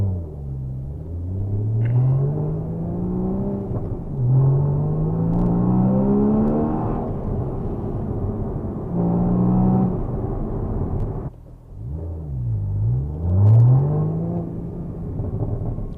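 A Porsche Boxster Spyder, manual gearbox, fitted with an Akrapovic exhaust, revs up and down repeatedly in loud, close blasts with rising and falling engine tones and a brief drop between pulls, no talking.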